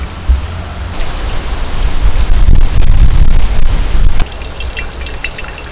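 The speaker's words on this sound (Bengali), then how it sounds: "এরকম চেপে লাউয়ের জলটা বের করে নিতে হবে।" Water squeezed out of grated bottle gourd wrapped in cotton cloth streams down in a loud, steady splashing trickle that swells in the middle, then eases.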